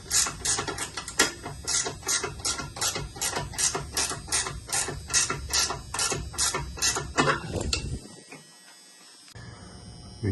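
Hand tools working loose the motor on an old Trane Climate Changer air handler, giving a rapid series of close metallic ratcheting clicks for several seconds that stop abruptly, leaving faint background hum.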